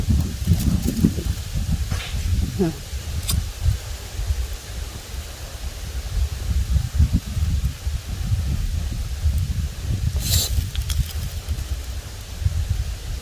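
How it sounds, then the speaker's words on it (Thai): Strong wind blows outdoors, a loud, continuous rumbling roar with gusty swells and occasional faint rustles over it. "ลมแรงมาก"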